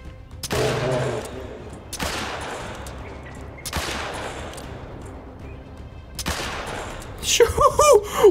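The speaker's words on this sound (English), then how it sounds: "We just did that with the pistol." Pistol shots fired at a bear in the hunting video game Hunter Call of the Wild: four sharp, loud reports spaced about a second and a half apart, followed by a brief burst of voice at the end.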